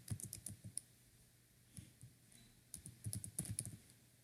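Keystrokes on a computer keyboard while a name is entered into an Excel form, coming in short irregular bursts of clicks with brief pauses between them, close and fairly quiet.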